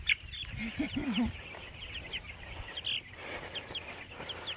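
Soft clucking from a chicken close by, a few short calls over quiet outdoor background.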